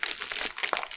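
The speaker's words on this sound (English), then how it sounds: "open your plastic bag, get your lube into the bag" A plastic bag crinkles up close as switch lube for a mechanical keyboard is worked into it, a dense burst of crackling, rustling plastic lasting about a second with no speech.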